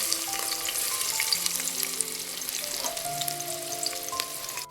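Chopped onion frying in a pan of hot oil, a steady close sizzle and crackle running throughout with faint stirring scrapes, for a country-style chicken curry.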